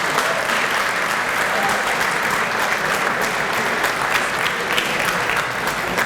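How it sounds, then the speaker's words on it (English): A steady, full round of clapping from a large crowd at a hall of fame induction banquet fills the space without pause, loud and even throughout. "Let's give them a round of applause"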